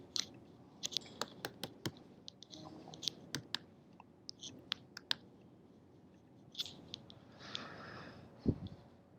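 Typing on a computer keyboard, close and quiet: scattered sharp key clicks in short irregular bursts with gaps between them, one heavier tap near the end, and no talking.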